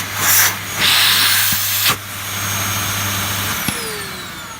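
Dyson DC08 vacuum cleaner fitted with a new filter, running loud and close with a strong suction hiss and steady hum, a few bumps and a brief whistle as the pitch shifts.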